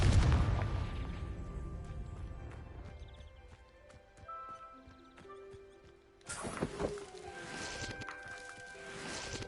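A Confringo spell blast in Hogwarts Legacy opens with a loud fiery burst that decays into scattered clattering, ringing tones and magical chimes, and a second swell of crackling impacts follows later.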